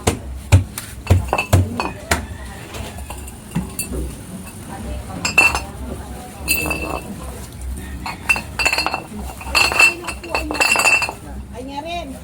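Glass bottles clink and clatter repeatedly as they are gathered during a drain declogging operation in a Philippine barangay, sharp bright knocks scattered under ongoing conversation.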